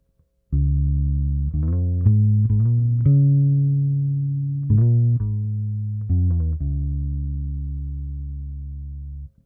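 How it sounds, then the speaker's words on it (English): A bass guitar plays through its neck pickup, producing a warm, round run of sustained low notes that change pitch several times. The playing is clear and alone, with no talk. "So here's the neck pickup."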